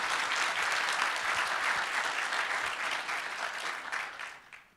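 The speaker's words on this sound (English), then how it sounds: "give him a round of applause" Warm applause from the audience at a Python programming conference talk, a full, even wash of clapping that holds steady and then thins out and fades near the end.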